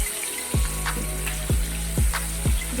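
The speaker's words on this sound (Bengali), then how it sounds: "হালকা করে জাস্ট ভেজে নেব।" Hilsa fish fries lightly in hot oil for a Bengali mustard curry. A steady close sizzle carries a few sharp knocks and clinks spaced about half a second apart.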